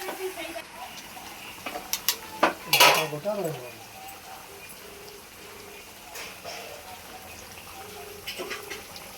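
Metal utensil scrapes and clinks against a pot as marinated chicken is stirred for biryani in a home kitchen, a few sharp knocks early then faint stirring under low background noise.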